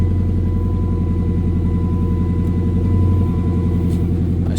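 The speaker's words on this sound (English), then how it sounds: "It does have a little exhaust setup." A Dodge Challenger R/T idles through an aftermarket exhaust, a loud, steady, deep rumble with an even throb, close by and without voices.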